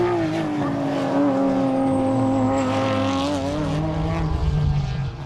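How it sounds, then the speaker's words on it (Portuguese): A race car accelerates hard off the start at the Portimão circuit during a Portuguese open speed championship round, its loud, close engine note climbing steadily and continuously without a break. "A partida foi dada e Correia carregou a fundo no acelerador"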